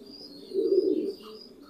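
A white Holland Jacobin pigeon from a breeding pair gives one short, close coo that swells and fades within about half a second, against a quiet background.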